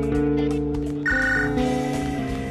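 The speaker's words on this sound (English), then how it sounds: "Why is the phone ringing while we're in class?" A telephone rings inside a classroom in the school video game Bully, a steady electronic ring held over a constant droning tone.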